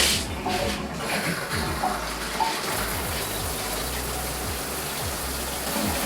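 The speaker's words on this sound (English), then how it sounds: "let's turn on the water and test it out to see how it works" Water sprays steadily from a SparkPod high pressure rain showerhead, a continuous close hiss with slight splashing that keeps an even level for several seconds.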